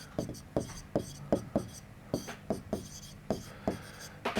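Writing out a solution in a Class 12 maths lesson on linear programming: a steady series of crisp strokes and taps on the writing surface, close and rhythmic, with no talking.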